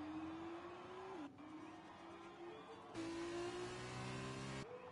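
Race car engine in the F1 2020 video game revving hard with wheelspin on the Italy track, a loud sustained whine that dips and jumps in pitch as the tyres spin, with no talking.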